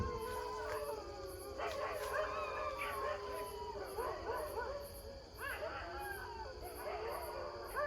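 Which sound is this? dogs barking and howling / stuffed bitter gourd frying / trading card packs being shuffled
dogs barking and howling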